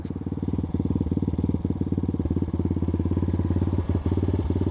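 A 2021 X-Pro Titan 250cc dirt bike engine idles nearby with a rapid, steady putter and rattly knocks, loud and continuous without any voices.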